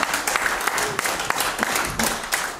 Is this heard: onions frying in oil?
no